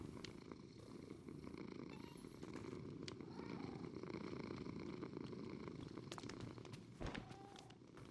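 A cat purrs in a low, continuous rumble, faint and steady throughout, with occasional soft clicks.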